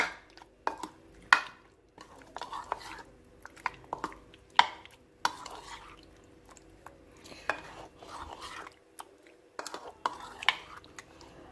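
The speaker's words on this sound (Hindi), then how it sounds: "अब इसे जो है मैं मिक्स कर दूंगी।" Spice being mixed into a meat marinade for biryani, with soft wet stirring and occasional spoon clinks against the bowl, close and fairly quiet.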